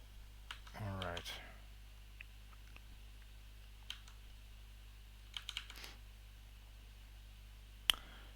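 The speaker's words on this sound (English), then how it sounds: "We can just start typing" Scattered computer keyboard key presses while playing the game Snake, a few sparse, fairly faint clicks and taps spread out over a quiet background.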